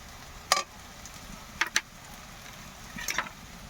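Cumin paste and spices fry in a pan as a base for cooking cane shoots, with a low, steady sizzle and a few sharp scrapes and taps of a spoon on the pan.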